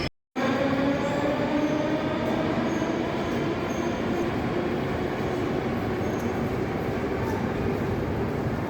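A metro train runs through Ploshchad Revolyutsii station in Moscow with a loud, steady rumble of wheels on track and faint squeals, continuous and close for the whole stretch.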